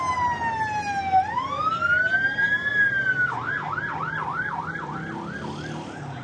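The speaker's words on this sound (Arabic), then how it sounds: "أصوات الإسعاف" Ambulance siren on a Beirut street after the port explosion, a near, loud long rising and falling wail that switches to a fast repeating yelp, with traffic noise beneath.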